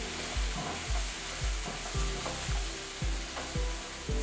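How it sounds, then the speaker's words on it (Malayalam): Beef being stirred with coriander powder in a frying pan, a steady rhythm of scraping strokes roughly every half second over a constant sizzle, close and clear with no talking. "മല്ലിപ്പൊടി ഇട്ട് കഴിഞ്ഞിട്ട് ഒന്ന് ഇളക്കണം."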